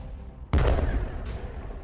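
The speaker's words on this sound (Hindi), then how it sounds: "यहां एक मिसाइल निकलती है और सीधे बॉर्डर पर खड़े इजराइल के मरकावा टैंक को फोड़ देती है।" An Israeli Merkava tank at a border point is struck by a missile. A single sudden heavy blast dies away as a rumbling boom, and a fainter secondary crack follows about a second later.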